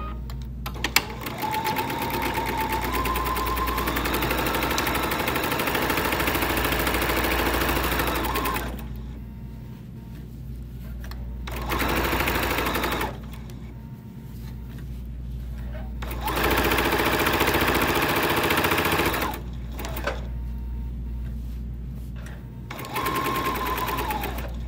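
A sewing machine stitches long seams along fabric sides in steady whirring runs, several sustained bursts with short pauses between, close and clear.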